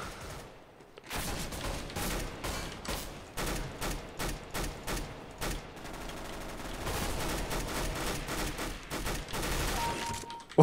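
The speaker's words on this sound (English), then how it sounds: "Machine gun!" Machine gun fire in a match of the video game CS:GO, heard as repeated bursts of sharp rapid shots, some in quick clusters, fairly loud and close, with no talking over them.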